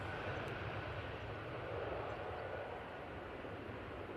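Baltic airliner flying for Swiss, departing runway 23 left at Manchester Airport, a steady broadband jet roar held at constant level throughout, fairly distant with no talk over it.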